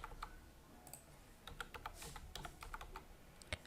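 Typing on a computer keyboard while entering a computer name during desktop setup: a quick, irregular run of faint, close key clicks, with one sharper tap near the end and no voices.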